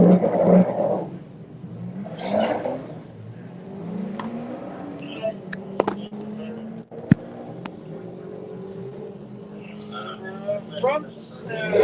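A Subaru WRX and a BMW 1 Series drag racing at a drag club event, rising engine revs and passing vehicle noise heard from a distance beneath a commentator's steady talk.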